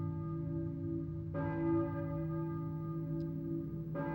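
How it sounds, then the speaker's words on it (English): A deep church bell in the video game Silent Hill tolls twice, slow and resonant, each strike ringing out with a long humming decay. "I hear a church bell, maybe. Who's ringing the bell?"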